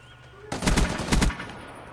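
A short, loud burst of rapid video game gunfire from R-70 and Peacekeeper weapons, a quick cluster of close shots lasting under a second after a brief quiet moment.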